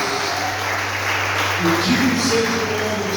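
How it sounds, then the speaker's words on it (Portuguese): A church congregation applauds with a steady, even wash of clapping that holds throughout, while someone speaks over it. "Todos que podem aplaudir ao Senhor, aplauda a Ele."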